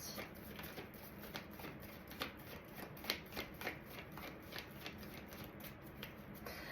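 Tarot cards are shuffled in quick, close riffles and rustles, a continuous crisp papery patter with sharper snaps at intervals, heard alone without speech.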